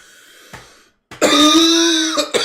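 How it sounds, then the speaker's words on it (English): A single big, forceful cough from a tabletop fantasy role-play player, loud and close, with a short breathy lead-in before it and a brief catch of breath at the end. "Do a big cough. Let it all out."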